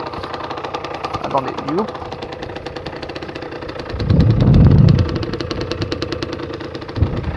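A cold Beta 50 RR enduro motorcycle engine idles just after starting, a rapid, steady two-stroke putter with a short louder burst midway, while someone speaks briefly over it.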